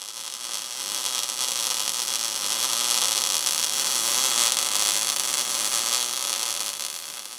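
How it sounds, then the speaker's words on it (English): A Snap-on welder's arc burns steadily for over seven seconds, a loud continuous crackling hiss with a broad static buzz that swells slightly and then eases near the end. "let me let you listen to what the arc sounds like"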